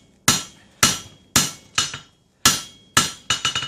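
A hammer forges a steel blade in a series of sharp, ringing metallic strikes, about eight close blows with short pauses, ending in a quick cluster of lighter taps.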